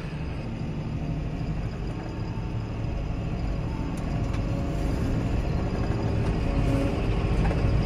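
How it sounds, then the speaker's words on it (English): A heavy goods train rumbles past nearby, a continuous low roar that grows slightly louder over several seconds, with no voices. "Big goods train going past."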